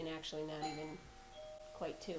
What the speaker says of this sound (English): And there's your doorbell.